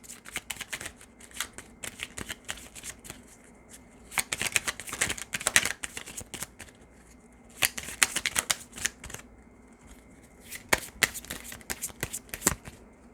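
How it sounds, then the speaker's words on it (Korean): Tarot cards are shuffled in bursts of crisp riffling and flicking. Short pauses fall between the bursts, where single cards are drawn and laid down. The sound is close and clear, with no talking over it. "시크릿 가든이랑 시멜로디 조언 카드 조금 더 뽑아볼게요"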